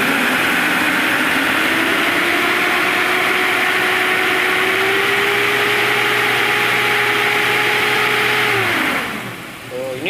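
A Suzuki Jimny Katana engine is revved hard and held at high revs for several seconds before dropping back, loud and close. A voice is faintly present underneath.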